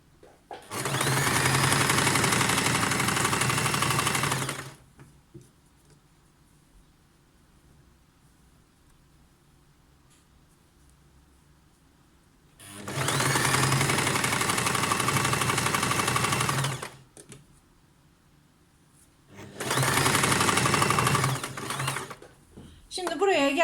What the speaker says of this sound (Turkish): Kol evinden lastiğimi dikmeye başlıyorum.